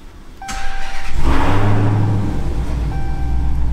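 A Dodge Challenger Hellcat with its mid muffler deleted starts at an idle, then revs hard into a loud, raspy exhaust roar that holds and settles back toward idle, close up with no one talking.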